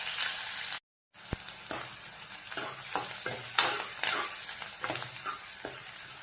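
Onions fry in oil with mustard seeds, urad dal, ginger-garlic paste and curry leaves for a potato palya, a close sizzle with a brief dropout near the start, then rhythmic scraping stirs and crackles throughout.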